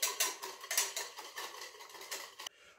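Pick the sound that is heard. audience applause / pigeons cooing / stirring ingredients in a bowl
stirring ingredients in a bowl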